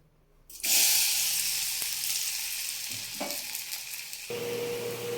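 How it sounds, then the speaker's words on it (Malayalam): Sliced banana sautéing in melted ghee sets off a sudden, steady sizzle of frying that holds loud and close, with faint stirring clinks and no talking. "പഴം ഒന്ന് നെയ്യിലിരുന്ന് മെൽറ്റായി അതിൽ നിന്ന് ഒന്ന് മൂപ്പിച്ചെടുത്താൽ മതി"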